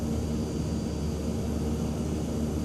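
King Air turboprop on the left side spinning up during engine start, a steady loud whine and broadband roar with a constant tonal hum, no voices.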